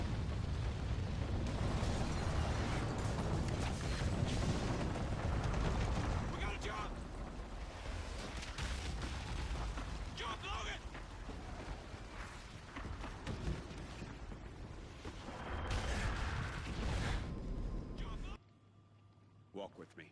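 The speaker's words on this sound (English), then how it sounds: "if you take too long, you're going to get yourself killed since there's missiles coming down" Missiles explode in a Call of Duty: Ghosts mission, heavy rumbling blasts and bursts rolling over one another loudly for most of the time before cutting off abruptly near the end.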